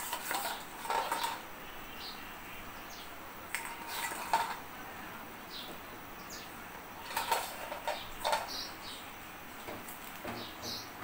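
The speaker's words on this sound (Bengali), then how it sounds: "এখন আমি ভেজে রাখা মাছগুলো দিয়ে দিব।" Fried katla fish pieces going into a boiling potato and ridge gourd curry, heard as several faint clinks of utensils against a pot over a low steady simmer, with no talking.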